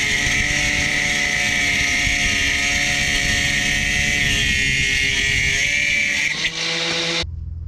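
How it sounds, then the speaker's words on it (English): An angle grinder cuts the threaded end off a U-bolt at a hub clamp, giving a loud, steady, high-pitched whine that holds for about seven seconds before cutting out abruptly. "is just to cut the thread off with a grinder"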